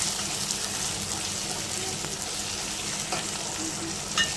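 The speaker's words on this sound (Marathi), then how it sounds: "आता आपण यामध्ये टोमॅटो घालूया आणि टोमॅटो पण आपण थोडा मऊ होईपर्यंत परतून घेऊया." Tomatoes sautéing with browned onion and green chilli in a pan for a jackfruit curry, giving a steady, close frying sizzle throughout with faint stirring scrapes and no talk.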